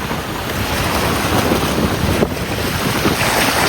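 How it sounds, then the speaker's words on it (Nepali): Sea waves wash onto the beach at Al Mugheirah and Al Mirfa in a continuous loud roar, with gusting wind buffeting the microphone throughout. "समुद्रको छाल भन्ने होला है"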